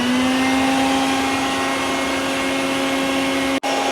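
A vacuum runs steadily while being used with soapy water to find a car exhaust leak, giving a continuous, close, loud whine that cuts out for a split second near the end.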